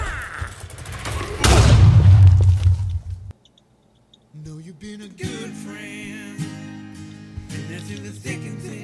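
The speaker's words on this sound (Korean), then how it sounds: "폭탄" A bomb explodes in Minecraft with a sudden loud, heavy blast and crackling debris that lasts about two seconds, followed by a short silence and then quieter game sounds and tones.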